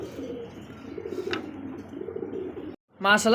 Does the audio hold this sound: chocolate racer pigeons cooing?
yes